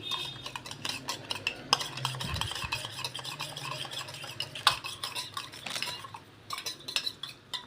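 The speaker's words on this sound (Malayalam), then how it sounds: "അത് തിളച്ച വെള്ളത്തിലേക്ക് ഇട്ട് ഒന്ന് കലക്കിയെടുക്കണം" A spoon stirs rice flour into boiling water in a pot, scraping and clinking against the sides with small knocks, fairly close and without any talking.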